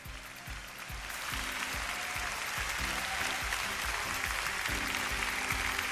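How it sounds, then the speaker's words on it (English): At the Miss Earth 2003 beauty pageant, the audience gives a sustained round of applause for the contestants, a dense, even wash of clapping from a large crowd over a low, rhythmic thudding. "Ladies and gentlemen, they deserve a round of applause,"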